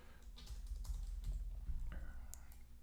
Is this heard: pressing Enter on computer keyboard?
yes